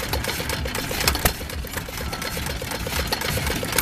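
A small old engine runs close by with a rapid, even chugging beat, mechanical clatter throughout and one sharp knock partway through.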